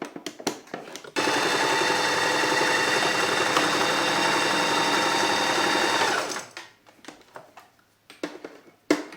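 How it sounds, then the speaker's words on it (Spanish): A domestic sewing machine stitching a fabric test piece runs steadily for about five seconds, a loud, even mechanical whir that starts and stops cleanly with quieter handling clicks around it. "Vamos a hacer una prueba a ver si cómo nos cose."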